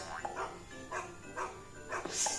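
A cartoon dog in a kids' iPad game barks in a few short yaps spread over the clip. The barks are moderately loud and come between bits of talk.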